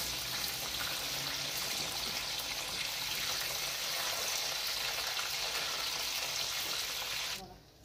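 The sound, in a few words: soya chunks frying in oil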